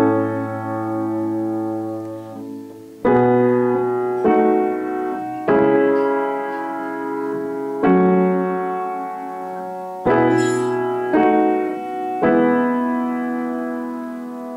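Piano chord progression in which a cadential six-four over the dominant sets up an expected authentic cadence but resolves deceptively to the six chord, heard as a series of sustained block chords struck one after another, clear and close with no talking.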